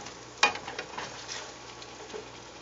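Asparagus in Chinese-style garlic sauce bubbles and sizzles in a pan, with a sharp clink near the start followed by soft irregular crackles and pops.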